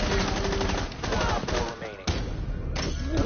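Loud automatic gunfire in a shooter video game, rapid bursts broken by short gaps, with excited players talking over the shots.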